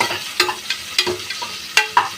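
Onions fry for vegetable biryani with mealmaker, a soft sizzle broken by several sharp scraping clicks of a spoon stirring the pan at irregular intervals.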